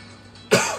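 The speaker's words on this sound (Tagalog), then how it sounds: "inuubo ako." A single sharp cough bursts out after a moment of quiet room tone, close and loud, then trails off quickly.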